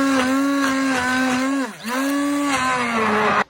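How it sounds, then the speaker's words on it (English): A hand blender whirs steadily through roasted carrot soup with vegetable stock, a loud continuous motor drone that dips briefly in pitch midway as it bogs in the thick purée, then runs on until it cuts off. "I'm going to finally blend everything up using my hand blender."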